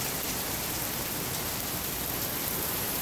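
Steady rain falls in a thunderstorm, a dense, even hiss that runs unbroken from start to finish with no voices.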